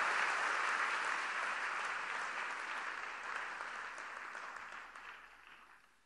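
Audience applause welcoming Prime Minister Modi at an event in Varanasi, a steady wash of clapping hands that fades gradually toward the end, with no talking over it.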